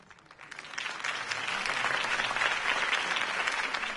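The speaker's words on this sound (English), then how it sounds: "could have heard that applause" A crowd breaks into applause in a Batman video game that swells over the first second and then holds as steady, dense clapping and cheering.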